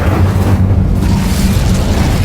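A fiery Incendio spell cast in the video game Hogwarts Legacy: a loud, steady roaring burst with a deep rumbling low end that holds for the whole stretch without letup.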